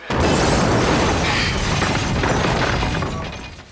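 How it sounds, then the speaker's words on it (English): Huge explosion blowing out the entire glass side of a shopping mall in a 1978 horror film, a loud sustained roar of blast and shattering glass that fills the whole stretch and slowly tapers at the end. "I think the entire glass side of the mall went up in a huge explosion."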